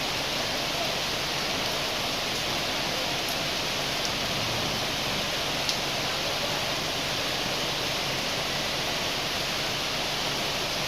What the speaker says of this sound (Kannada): ನೋಡಿ ಎಷ್ಟು ಮಳೆ ಬರ್ತಾ ಇದೆ